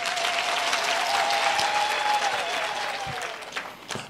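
Mourners at a funeral service clapping steadily, a sustained round of applause that thins out toward the end, with a faint tonal hum underneath and no speech.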